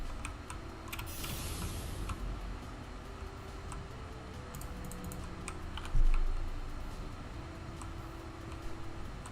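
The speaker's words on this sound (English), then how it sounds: "I'm clicking on it a lot, but it's not registering." Rapid, repeated computer mouse clicks tap out in quick bursts at close range against a steady background hum, with one louder thump partway through.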